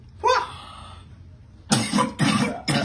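A person coughs hard: one rough cough, then a pause, then three harsh, closely spaced coughs, loud and near, with no talk over them.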